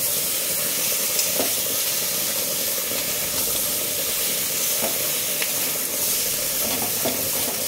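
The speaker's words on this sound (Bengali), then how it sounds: "তরকারিটা এবারে নাড়বো।" Ridge gourd and prawn curry hissing in a pan as it is stirred, a loud, even sizzle with steamy hiss and a few faint scraping knocks spread across it.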